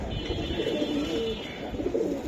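Silver Giribaj pigeons of the Palla line coo in low, rolling murmurs throughout, close by and steady, with faint background noise around them.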